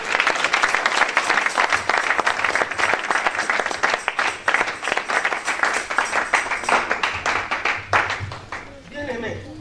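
A church congregation bursts into dense, sustained applause and cheering, with voices mixed into the crowded clapping until it thins out near the end.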